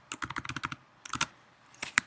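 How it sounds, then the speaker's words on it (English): Quick bursts of keystrokes on a computer keyboard, a rapid run of about ten clicks, a pause, then a few more taps, crisp and close with no voice. "I want to type using capitals Starbucks coffee"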